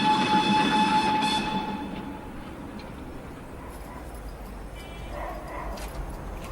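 The Tren de las Nubes, a high-altitude Argentine train running at 4,300 metres, rumbles loudly past with sustained whistle-like tones that fade into a quieter, distant rolling noise, with a few faint barks later.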